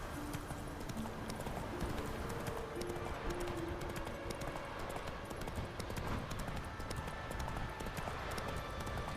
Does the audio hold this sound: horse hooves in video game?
yes